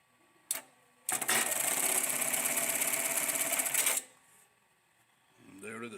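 A THOR GT-1900B-IP electronic tacker sews through three layers of strap, giving a loud, steady mechanical stitching rattle of about three seconds, framed by a short click before it and quieter machine sounds after.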